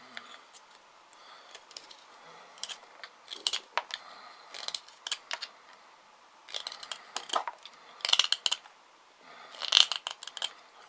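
A CRKT Pilar folding knife slicing and notching material, giving a series of short, crisp scraping and snicking cuts in irregular bursts, fairly close and alone with no talk.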